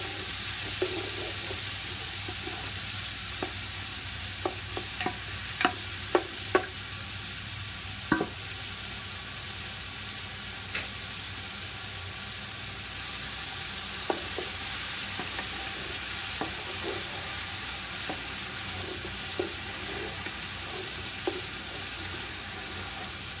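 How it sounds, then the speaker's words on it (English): Ingredients for Persian ab-goosht (dizi) sautéing in a pan until light brown, a soft continuous sizzle with scattered utensil taps and stirring clicks, fairly quiet and steady. "we just want to saute these to their light brown"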